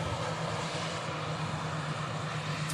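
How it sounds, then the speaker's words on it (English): A TUI Boeing Dreamliner departs Manchester Airport, its engines giving a steady, fairly distant roar with a low hum underneath, unbroken across the whole stretch. "TUI Dreamliner next to depart"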